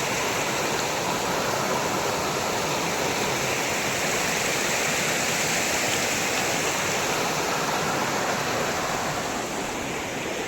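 A waterfall on a family outing near a grassy footpath gives off a loud, steady, close rushing roar of falling water that stays even throughout, with no voices.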